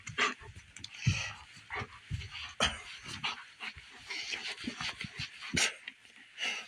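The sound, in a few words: wet dog panting and whimpering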